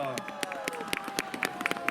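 Scattered clapping from a crowd at an outdoor Three Kings procession nativity play, uneven and moderate in volume, under an announcer's voice.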